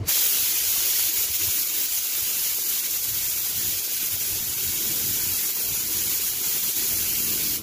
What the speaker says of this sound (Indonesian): Pokoknya kita cari semprotan yang lembut.